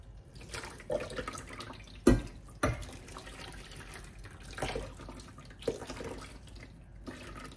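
Tap water runs steadily into a kitchen sink while grease soaks off dishes, a continuous close splashing with a few louder knocks and clatters, no talking.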